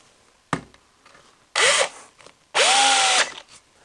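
A power drill drives screws through a 4-inch faceplate into a heavy walnut blank, heard as a sharp click followed by two whirring bursts, the second longer with the motor pitch climbing and settling, close and loud in a quiet room.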